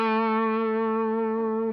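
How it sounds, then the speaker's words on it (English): Electric guitar with an effects-laden, slightly distorted tone plays a blues lick, a single bright sustained note ringing clearly before cutting off abruptly. "It's a cool little blues lick there."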